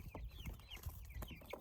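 Chickens cluck close by in a quick, irregular series of soft clucks and chirps, several birds overlapping briefly with no talk.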